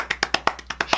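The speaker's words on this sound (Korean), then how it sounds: "박수." A single person claps their hands eight times in a quick, even rhythm, close and crisp, with no other sound around it.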